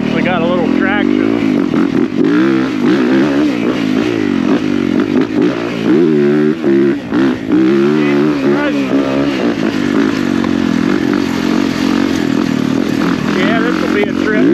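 Engine of a 450 dirt bike under riding, loud and continuous with rising and falling revs as it pulls for traction, close to the rider throughout.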